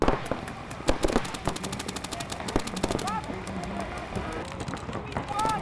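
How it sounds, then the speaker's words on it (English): Paintball markers fire in rapid bursts during a competitive tournament match, a dense crackling stream of shots with a commentator's voice talking over the action. "you can see that gun just completely ripping"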